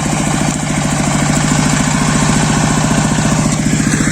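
A homemade mini tractor converted from a walk-behind tractor runs close up while ploughing, its small engine chugging loudly in a steady rapid rhythm with no voices.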